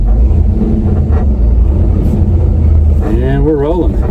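An abandoned Squarebody Chevy truck, run again after 23 years, pulls away in first gear: a loud, close, rumbling engine drone throughout, with a voice speaking over it near the end.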